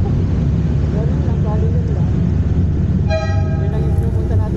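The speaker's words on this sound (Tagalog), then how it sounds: "Sumisigaw kami rito sa loob ng Kabyang Tunnel tsaka bumubusina." Inside the Kabyang Tunnel, a vehicle horn toots in a sustained blast over a loud, echoing engine roar from motorcycle riders, with voices shouting in the reverberant space.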